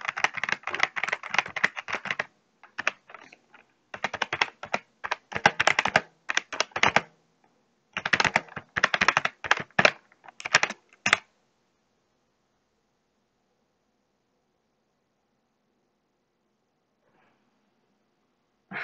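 Computer keyboard keys typed in quick irregular bursts for about eleven seconds, close and clear, with short pauses between runs, then near silence.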